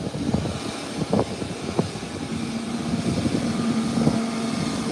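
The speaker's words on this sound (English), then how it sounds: "we have to brake from this because the ATR is taking off" An ATR turboprop airliner taking off at Howard Hamilton International Airport, heard as a steady, moderately loud engine drone with a faint tonal hum, broken by a few brief sharp knocks and no talking.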